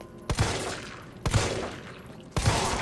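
Gunshots in the video game Resident Evil 3: three loud, sharp cracks spaced about a second apart, each followed by a short decaying tail.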